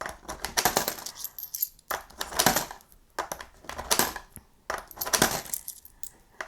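Loose coins clatter and jingle in repeated bursts, like handfuls being poured into a container, close and fairly loud, with short pauses between pours.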